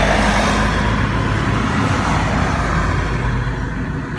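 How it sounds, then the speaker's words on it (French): A car passing on the road heard from the roadside, a broad loud rushing roar that holds and slowly eases away, with no talk. "j'attends la voiture qui passe"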